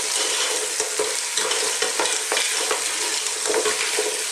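Fresh mussels sautéing with onions in a pan, a steady loud sizzle with repeated scraping and clacking of shells as they are stirred, with no talking.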